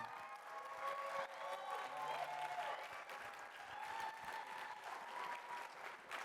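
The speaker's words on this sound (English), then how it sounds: "Let's give a big round of applause for Faith and her mother, Cammie." Audience applause at a charity music gala, a steady wash of many hands clapping that stays fairly even and distant for several seconds, with faint tonal sounds in the background.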